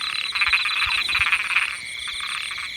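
Frogs croak in a rice field at night, a dense, steady chorus of rapid pulsing calls from many animals, loud and close, with no talk over it.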